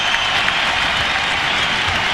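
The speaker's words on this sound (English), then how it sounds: "he'll get a huge ovation from the hometown crowd for his performance so far" A hometown basketball crowd gives Kenyon Martin a sustained ovation, dense applause and cheering filling the arena steadily and loudly without a break.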